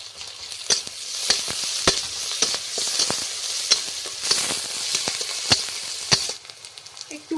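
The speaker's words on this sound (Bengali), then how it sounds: "সামান্য পরিমাণে আদা রসুন বাটাটা দিয়ে দিচ্ছি" Ginger-garlic paste sizzles loudly in a hot frying pan with a steady close hiss, punctuated by regular scraping stir strokes.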